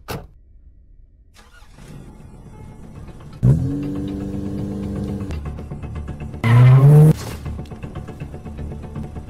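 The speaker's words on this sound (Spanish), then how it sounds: "¿Prende el carro o no?" A car engine in the video game Granny starts and revs, a steady mid-pitched drone with a rising rev burst and a loud squealing skid-like surge near the end, over low background game sound.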